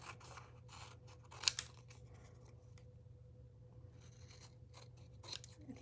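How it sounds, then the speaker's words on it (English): Scissors trim adhesive vinyl in a quiet room, a few soft snips and crisp cuts clustered near the start and end over a low steady hum. "so we're going to trim this up."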